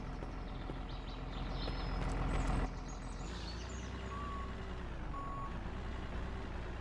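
Steady rhythmic reversing beeps from a truck in a construction video game, repeating over a rumbling engine, with a brief burst of louder mechanical noise partway through.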